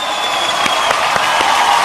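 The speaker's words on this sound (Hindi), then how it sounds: "मैं जीत की मम्मी के लिए जोरदार तालियां" Comedy show audience gives loud, sustained applause for Jeet's mother, a dense, even roar of clapping with a few sharper claps standing out.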